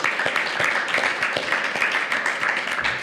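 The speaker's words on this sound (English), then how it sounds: "I think that deserves a round of applause, folks." A studio audience at a fitness venue breaks into a round of applause, steady dense clapping lasting a few seconds, fairly loud and close.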